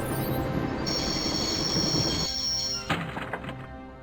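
A train runs on rails in the Broken Sword video game, a loud rolling clatter with a long high wheel squeal, then thunks and clanks as it slows and stops.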